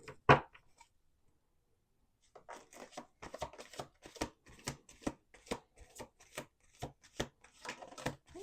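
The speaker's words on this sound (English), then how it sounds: "Let's do one more shuffle." A deck of cards is riffled and shuffled up close, a quick flurry of soft rapid flicks and taps after a brief pause, with no talking.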